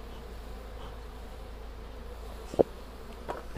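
Faint, steady hum of a honeybee colony buzzing after being lightly smoked at the hive, a low continuous drone with one brief sharp click partway through.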